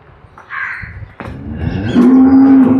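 A cow on a dairy farm lets out a loud, close moo that rises into a long sustained low call, with some shuffling and rustling beforehand.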